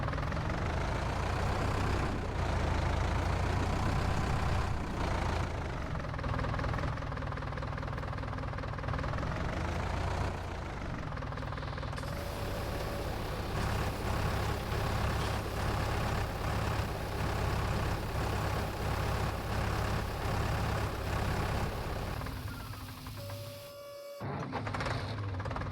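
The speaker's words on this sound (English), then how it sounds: "I like just hearing my tractor start 50 times." A tractor engine in Farming Simulator 19 on a dairy farm runs steadily for about 25 seconds, a loud continuous mechanical drone with knocking undertones, shifting pitch midway, then briefly cutting out near the end before resuming.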